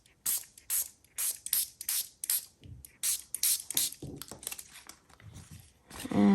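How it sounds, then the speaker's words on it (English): A hand spray bottle mists water onto paper edged with walnut stain, a quick run of close, hissing pumps in a steady rhythm, each burst short and crisp with brief gaps between. "I want to spray a little bit of water where I added the walnut stain"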